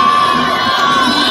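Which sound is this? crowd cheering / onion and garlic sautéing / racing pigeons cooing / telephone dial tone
crowd cheering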